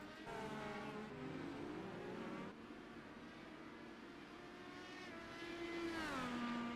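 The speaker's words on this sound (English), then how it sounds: "Looks like next car ahead of these race leaders to go an additional lap down is the number 30 machine, the 4D Raceware, number 30 of Craig Forsyth" Open-wheel race cars in a racing video game at the Long Beach Grand Prix street circuit scream past in turn, their high-revving engine notes rising and falling with gear shifts, loud and continuous with no talking.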